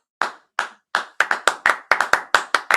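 A few claps sounding alone, sharp and close, starting slow and spaced before speeding into a quicker, steady run of about a dozen claps.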